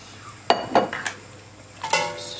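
Several sharp clinks and clatters in a kitchen, a few knocks spaced over two seconds as fish is dropped into a boiling metal pot of soup, with faint background hiss.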